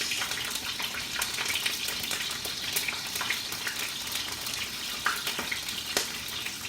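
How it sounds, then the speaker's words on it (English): Fish fries in a pan with a continuous wet, hissing crackle and scattered sharp pops, steady and fairly close throughout. "We'll fry our fish, and the taste of the fish will go into our rice."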